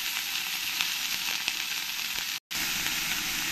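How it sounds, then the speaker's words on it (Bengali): Bitter gourd slices fry in hot oil in a pan, giving a steady, close sizzle with faint crackles and a brief break near the end. "এবার আমি যে এখানে উচ্ছেগুলো নিয়েছি, উচ্ছেগুলো ভালো করে আমি ভেজে নেব।"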